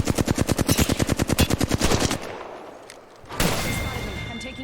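Rapid automatic gunfire in the video game Valorant, a loud close burst of evenly spaced shots lasting about two seconds, then a fading tail and a renewed rush of noise.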